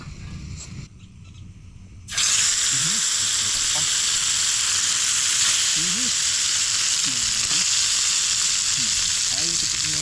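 Oil hisses loudly in a titanium pan at an outdoor farm cookout, where a sudden bright, steady sizzle begins after a few quieter seconds and holds throughout, with faint background sounds beneath it.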